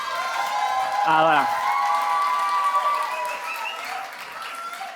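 Audience applause with some cheering fills a live talk, steady throughout, with a voice and a brief whistle-like tone rising over the crowd noise near the start.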